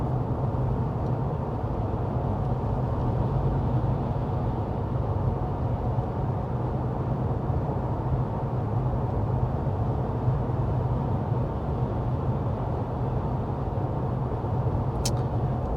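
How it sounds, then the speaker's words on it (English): Steady road and engine rumble inside the cabin of a 2023 Honda Accord Sport cruising at 55 mph, a constant low broadband drone with no talking. "so going 55 miles an hour, we are sitting at 62 decibels even"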